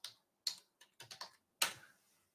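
Short bursts of keypresses on a computer keyboard, about six quick clusters of clicks spread over two seconds, close and fairly quiet with silence between them.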